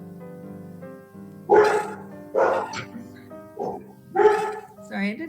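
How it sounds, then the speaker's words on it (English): Dogs bark in a home during an online calligraphy class, several loud barks spread unevenly over a few seconds, close to the microphone. "My dogs are barking."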